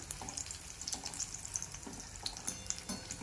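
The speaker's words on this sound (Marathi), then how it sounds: "वडे पण छान असे खमंग असे तळून घ्यायचे." Batata vada frying in hot oil, a steady close sizzle with bubbling crackles and small pops throughout, no voices.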